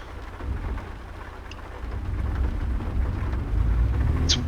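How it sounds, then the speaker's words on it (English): Rain and thunder in the American Truck Simulator video game: a dense, continuous rain hiss over a deep rolling rumble that grows louder toward the end, with a short sharp sound near the finish. "It is rainy here in Idaho this morning"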